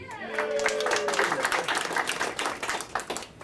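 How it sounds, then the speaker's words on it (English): Audience applause for Christy James at a live radio show, a dense burst of many hands clapping that swells quickly and carries on steadily for a few seconds, close and lively. "How about a big hand for the one and only Christy James?"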